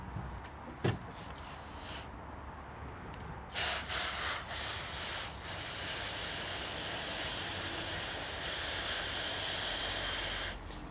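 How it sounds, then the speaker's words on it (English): A garden hose sprays water onto cactus fruit outdoors in Hawaii: a brief clatter, then a strong, steady close hiss of spray that runs for several seconds before cutting off. "the pressure from the hose kind of blows them all out"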